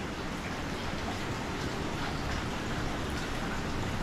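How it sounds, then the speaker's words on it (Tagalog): Rain falls steadily at night on a hot evening, a soft, even hiss of drops that holds at a constant level throughout with no voices. "Mainit pa rin, pero umuulan."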